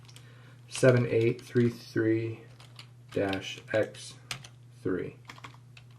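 Keys clatter on a computer keyboard as a camera name is typed during setup of a VStarcam wireless IP camera, with soft taps running beneath a person speaking throughout.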